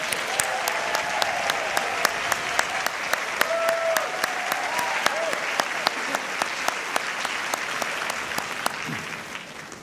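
Audience at a school awards celebration applauding: steady, dense clapping with sharp individual claps throughout, sustained for the whole stretch.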